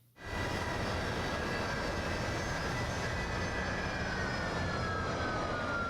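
An airplane jet engine roars steadily and loudly in a scene from the TV show Pluribus, a continuous dense rumble with a slowly falling whine, heard alone without talking.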